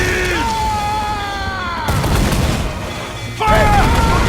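Ship cannons fire in Assassin's Creed Freedom Cry, heavy booming blasts marking two distinct shots amid battle noise and sustained tones, loud and close.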